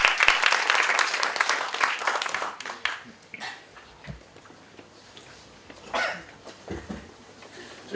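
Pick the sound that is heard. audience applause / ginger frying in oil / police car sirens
audience applause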